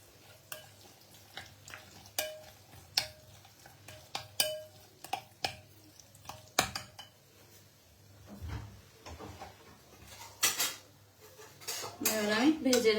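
Paneer filling being mixed with veg mayonnaise in a bowl, heard as irregular clinks and scrapes of a spoon against dishware, some bumps and clatter of kitchen utensils, fairly close and quiet, growing busier toward the end.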